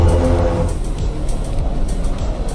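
A BMW CS engine in the racing game Assetto Corsa EVO drones steadily as the car drives, a smooth road-car tone that is loud and continuous with no talk over it.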